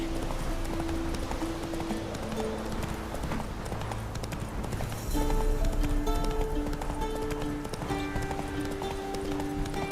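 Horse hooves clip-clop steadily in The Witcher 3 while riding a horse through the game world, a continuous galloping rhythm under game music with no one talking.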